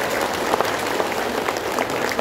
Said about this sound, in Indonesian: Tepuk tangan buat kalian semua.